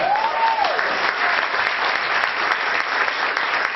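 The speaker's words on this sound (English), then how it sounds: "If you guys want to give yourselves a round of applause," Audience applause at a public meeting in Oakland fills the room as one steady, loud wash of clapping, with a brief voice heard over the start.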